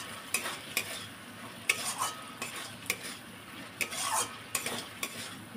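Half-browned chicken being sautéed with a ground cumin and coriander paste: a soft, steady sizzle with irregular scrapes and taps of a spoon against the pan, fairly quiet.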